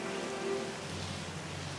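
Steady rain pours down in a forest setting, a dense even hiss of drops on surfaces with no voices over it.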